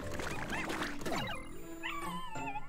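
A small dog from Pikmin 4 whimpers and yips with rising and falling whines. The cries are soft and close, set over a busy game soundscape with chirpy tones.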